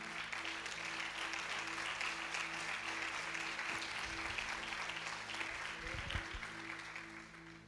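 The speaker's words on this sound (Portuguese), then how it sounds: "dando um aplauso a Jesus" A church congregation applauds during a Portuguese-language sermon service, dense continuous clapping filling the room at a strong, even level, with a few louder claps and shouts near the end.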